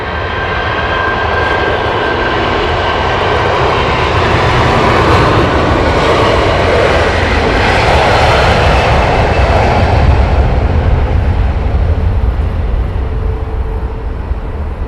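Jet engines of a Qatar Airways Airbus A380 and a Virgin A330 at Heathrow Airport, a loud continuous roar and rumble that swells gradually and holds for the whole stretch.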